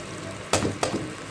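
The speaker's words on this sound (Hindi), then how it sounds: "टमाटर नरम हो जाने तक अच्छी तरीके से हम इसको भूनेंगे।" Tomatoes sizzle as they fry in a pan for aloo bhurta, giving a steady soft crackle, with two sharper stirring bursts standing out partway through, nearby and with no talk.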